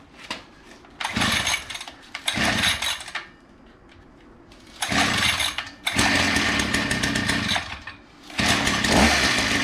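A small pit bike engine fights to start after priming, firing in loud, buzzy bursts that die away between tries, then catches and revs raggedly near the listener.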